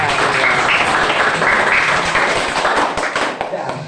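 Students in a classroom clapping in unison, a loud dense burst of hand claps that tapers off toward the end, with some voices mixed in.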